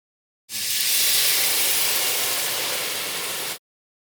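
A loud, steady sizzling hiss bursts out at once as lemon juice hits a very hot pan, holds for about three seconds, then cuts off abruptly.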